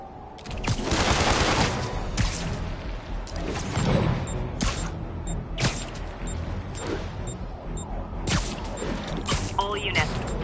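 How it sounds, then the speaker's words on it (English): Gunfire in the Marvel's Spider-Man video game as escaped prisoners in stolen vehicles shoot near Union Square, with loud, repeated bursts and sharp cracks spread through the stretch amid game noise and some talk. "prisoners and stolen vehicles are opening fire on civilians"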